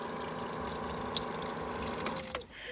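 Water running from a push-button tap into the small sink of a self-converted micro camper, a steady close splashing flow that cuts off abruptly near the end.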